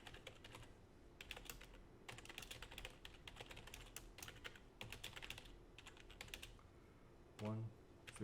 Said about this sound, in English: Oh man, my typing is terrible.